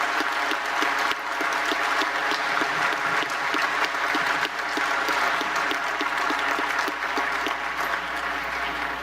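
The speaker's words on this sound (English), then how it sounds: "perhaps we can just give a special round of applause to Mexico" Steady, full applause fills a conference hall at a closing ceremony honoring Mexico, a dense wash of many hands clapping continuously and fairly loudly for nine seconds, with no one speaking over it.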